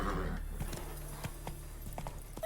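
Roach, the horse in The Witcher 3, gallops with a quick, rhythmic clip-clop of hooves, the steady beats close and clear over a low ambient game backdrop.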